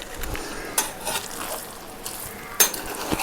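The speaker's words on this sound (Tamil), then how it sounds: "நம்ம வந்து கிளறி விட்டுட்டோம்." A ladle stirs chicken biryani in a pot, giving soft scraping and shuffling rice sounds with a few sharp metallic clinks against the pot, steady and close with no talk.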